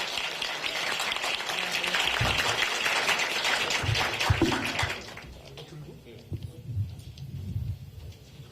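A campus crowd at a People Power Party youth event breaks into loud applause to welcome presidential candidate Yoon Suk-yeol, then it cuts off abruptly midway, leaving scattered bumps and low murmur.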